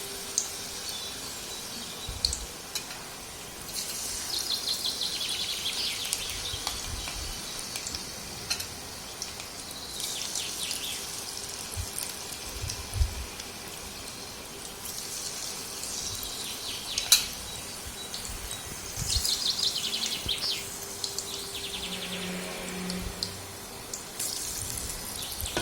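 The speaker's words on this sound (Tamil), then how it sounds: "இப்போ இந்த மாவில் ஒவ்வொரு பூவாக எடுத்து போட்டு எண்ணெயில் போட்டுடலாம்." Battered cauliflower florets for chilli gobi fry in hot oil over a medium flame, giving a soft, steady sizzle and bubbling with a few small clinks, no voices.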